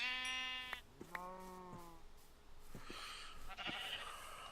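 Two sheep bleats in a modded Minecraft game, loud and close, with harmonic wavering calls early on, followed by brief thumps and a rushing synthetic noise.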